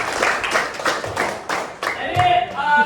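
A classroom group claps during a lesson on IP address classes, a short burst of uneven hand claps close by, followed by faint voices as the clapping fades.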